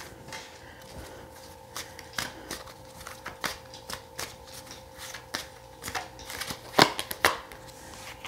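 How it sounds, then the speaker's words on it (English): Tarot cards being shuffled by hand, a steady run of soft riffling and flicking card sounds with a few sharper snaps near the end, close and alone with no talk. "let me get another card for how they might see you"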